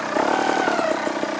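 A two-stroke trials motorcycle engine revs hard and steady, a buzzy, high-pitched drone held close and loud throughout with slight rises in pitch.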